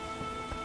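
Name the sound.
rain in The Witcher video game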